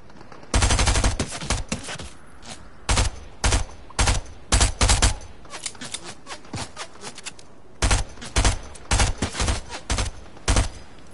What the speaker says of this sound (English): Got him with the SMG, boy.